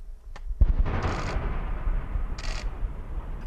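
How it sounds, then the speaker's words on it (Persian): Explosions, rocket and artillery fire in the Nagorno-Karabakh war, recorded from Azerbaijani territory toward the Armenian-populated region: a sharp blast followed by sustained rumbling and crackling detonations, with a few brief bright bursts, no voices. "صدای انفجار، راکت و توپ."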